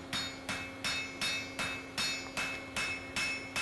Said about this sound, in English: And welding.